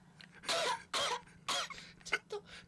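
A young woman coughs a few times in quick succession, close to the microphone and fairly soft, with short pauses between the harsh bursts, recorded during a Call of Duty: Infinite Warfare gaming session.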